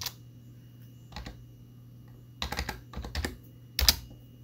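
Computer keyboard keys clack in short, separate clusters with quiet gaps between them, close and fairly crisp, ending in a louder final burst of keystrokes.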